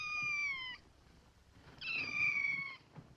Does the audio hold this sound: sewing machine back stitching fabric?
no